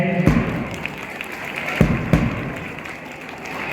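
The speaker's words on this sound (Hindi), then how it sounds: "जोरदार तालियां हो जाए।" A crowd at a village government school event applauds in a continuous, fairly loud wash of clapping, broken by a few dull thumps.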